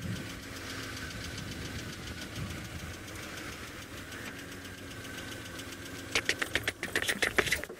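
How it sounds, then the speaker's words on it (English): An ominous rapid ticking knocks from the front of a safari vehicle's running engine, a steady mechanical clatter over the engine hum that turns into louder, sharper bursts near the end. "There's an ominous ticking noise coming from the front of our vehicle."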